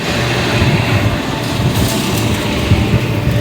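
A train rumbles along the line toward Krishnanagar in Nadia, a loud, steady low drone with rattling wheels and no talk.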